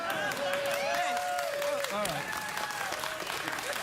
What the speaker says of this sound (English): sometimes I think they're clapping ironically for that singing, Bill